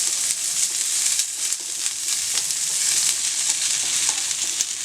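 Onions sautéing in oil for a paneer quesadilla, giving a steady, close sizzle with a dense crackle that holds level throughout, with no voices.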